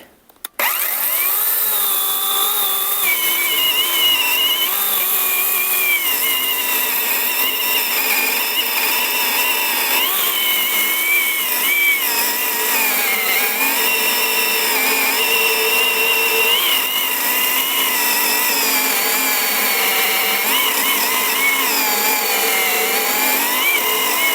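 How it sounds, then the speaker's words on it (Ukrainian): A ProCraft PKA 42li cordless saw cutting maple wood runs as a loud, steady high-pitched whine with shifting tones, sustained without a break for about twenty-four seconds after a sharp start, no voices. "А отак зараз будемо пиляти той же самий клен пилочкою ProCraft пк 42 лі"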